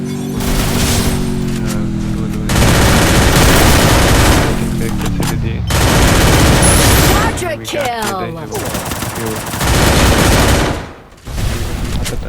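Rapid gunfire bursts in the Free Fire battle royale game, loud dense automatic shots in long sustained stretches separated by short gaps, with game effect tones mixed in.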